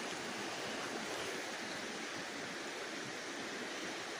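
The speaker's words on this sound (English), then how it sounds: "Just listen to this water." A small, crystal-clear forest stream rushes and babbles in a steady, even wash of water noise, close and continuous with no voices.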